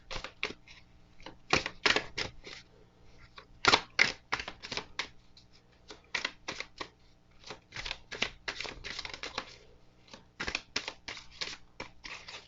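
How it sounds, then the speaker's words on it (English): Tarot cards shuffled by hand at close range, a steady run of crisp riffling bursts and soft slaps with brief pauses between, quiet and without any talking. "So, let's get to shuffling to see what the week has in store for us."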